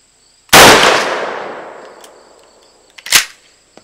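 A single sharp gunshot from an iGun smart gun fired downrange at a range, close and very loud with a long decaying echo, followed by a fainter metallic clack a few seconds later.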